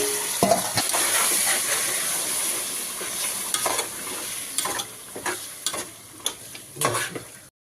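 Marinated chicken for a pulao frying in a hot pan, a steady loud sizzle broken by repeated scraping stirs that come in uneven bursts throughout.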